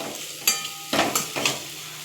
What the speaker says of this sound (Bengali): এবার আমি পটলগুলো দিয়ে একটু কষিয়ে নেব, আর অল্প একটু কষিয়ে নিচ্ছি।